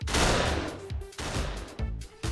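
Video game gunfire from Pummel Party, several loud punchy shots in quick irregular bursts close up.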